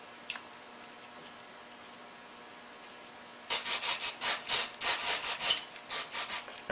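A small metal needle pin scrapes inside a Tecumseh carburetor in a burst of close, rapid, scratchy rubbing strokes after a quiet stretch with one faint tick.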